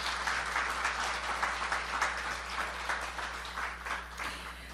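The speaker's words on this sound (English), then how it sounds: "she really deserves a round of applause" Steady audience applause at a patient education session in Toronto, a dense wash of many hands clapping continuously from start to finish, with a faint low hum underneath and no talking.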